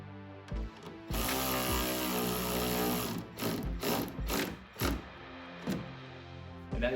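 A low-torque cordless power driver spins tail light screws on a 2009–2014 Ford F150, running in short whirring bursts with brief pauses and trigger stops, close and steady, no talking.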